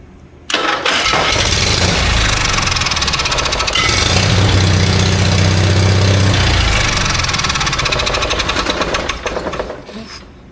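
An Onan Emerald generator engine runs after a brush repair, starting abruptly into a loud, rough, rapid mechanical chatter with a low throbbing drone, close by, continuing steadily before easing near the end.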